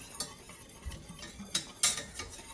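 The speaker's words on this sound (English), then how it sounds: "So that just entails whisking rather constantly." A whisk scrapes and clicks against a pan while stirring a flour roux. The strokes are quiet and intermittent, with a few sharper metallic ticks standing out from a soft background.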